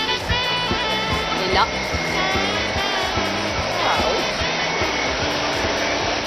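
A Vorwerk Kobold SP520 wet vacuum cleaner runs on parquet floor with a steady, loud motor whir throughout, while a voice talks over it.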